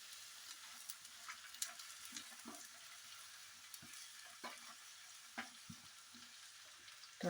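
Okra and beans frying in a pan while being stirred, a soft continuous sizzle broken by repeated scraping and tapping strokes of the spoon, close, with no voices.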